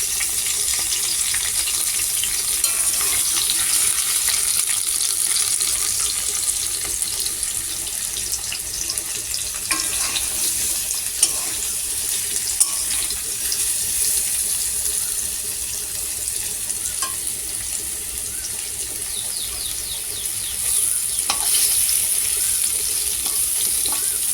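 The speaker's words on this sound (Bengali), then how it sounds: "তেলটা গরম হয়ে এসছে, তো এর মধ্যে যে মান কচুগুলো রেখেছিলাম সেই মান কচুগুলো দিয়ে দেব। হালকা করে ফ্রাই করে নেবো" Taro (mankochu) pieces fry in hot oil, a loud, continuous bright hiss that holds steady throughout with a few faint clicks, close by and with no talking.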